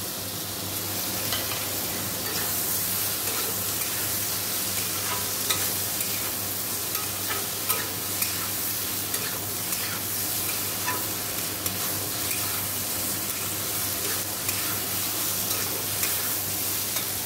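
Fish being stirred and fried in a pan, a dense continuous sizzle close by with light scraping stir clicks recurring at a steady pace, no talking.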